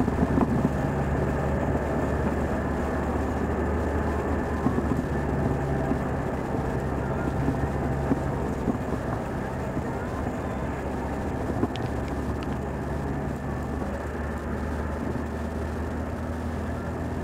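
Bus poking slowly along a snowy winter road in Harz National Park, Germany, on a below-zero day with windows shut: a steady, continuous engine and road drone heard from inside, even and unbroken throughout.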